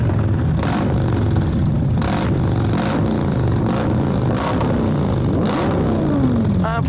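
Powerful motorcycle on a Santa Claus ride with 2000 riders, engine revving hard in repeated bursts over a constant rumbling idle, loud and close, with other bikes droning in the background.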